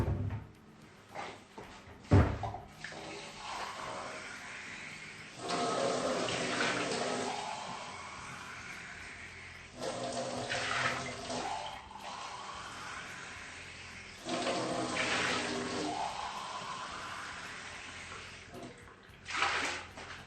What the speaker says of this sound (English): and pour some water.